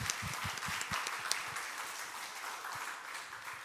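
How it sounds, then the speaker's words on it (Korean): Congregation applause during a Sunday church service, a soft, steady wash of many hands clapping in a large room that runs throughout at moderate distance. "우리 하나님께 영광의 박수, 그리고 또 성가대 더 잘하러 격려의 박수 나누겠습니다."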